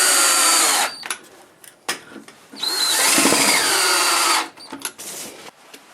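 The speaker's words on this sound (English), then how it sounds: "I'm going to drive the screws almost all the way." A power drill drives extra-long screws into a wooden bowl blank in several sustained high whirring bursts, the longest about two seconds, with short pauses and clicks between, close and loud, no talk.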